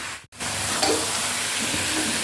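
Onions frying in a pan make a continuous, close sizzle with a steady hiss and faint stirring clicks, heard alone without talking.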